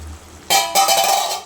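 Cumin seeds drop into a pan of frying potatoes, setting off a sudden loud sizzle that carries on as a steady hiss and crackle, close by, with no voices.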